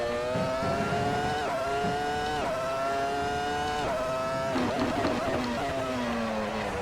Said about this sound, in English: And that's oversteer, and we're not recovering from that one.